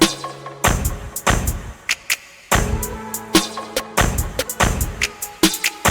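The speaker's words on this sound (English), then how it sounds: "So I added in a snare that hits like a regular snare." A snare drum cracks repeatedly with a long reverberant tail, set in a loop with other drum hits in a steady beat.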